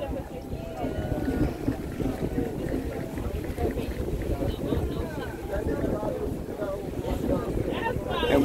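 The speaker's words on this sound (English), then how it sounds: "We have the same exact boat and sail." A sailboat cruising at sunset off Zanzibar Island, with steady wash of water and wind buffeting the microphone throughout, a continuous rushing bed under faint indistinct voices.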